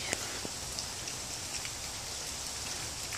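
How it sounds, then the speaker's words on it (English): Steady rain falls outdoors as a dense, continuous hiss of drops on surfaces, with a few sharper close drips standing out and no voices. "It's raining right now."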